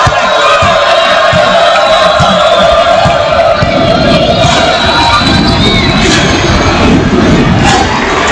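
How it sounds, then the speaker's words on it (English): Loud, dense crowd roar filling a basketball arena at a national championship game, with cheering and shouting from student sections and bands swelling continuously without a break. "And the fans are going wild."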